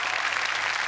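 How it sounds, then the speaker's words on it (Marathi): Audience applause welcomes guests onto the stage at a Marathi comedy show, a dense, loud, continuous burst of clapping from a large crowd for about a second. "जोरदार टाळ्यांनी स्वागत करूयात यांचं."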